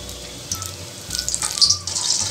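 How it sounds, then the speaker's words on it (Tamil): Betel leaf dipped in batter dropped into hot oil in a pan, giving a sudden rise of bubbling sizzle that swells in short bursts and keeps crackling steadily, close up with no talk. "டிப் பண்ணிட்டு எண்ணெயில் போடலாம்."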